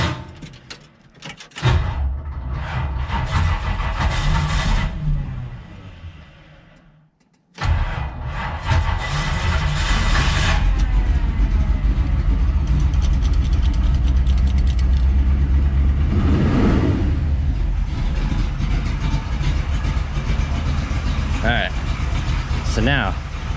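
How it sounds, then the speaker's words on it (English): A 1957 Chevrolet Bel Air engine cranks and fires, then settles into a loud, steady idle close by after a brief drop to silence, with someone talking over it. "You can hear the engine start to slow down"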